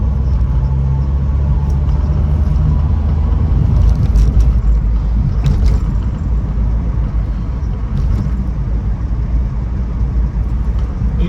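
A Ford Cortina 1600E runs on the move, a steady low engine rumble with road and cabin noise, loud and constant throughout, with no one talking.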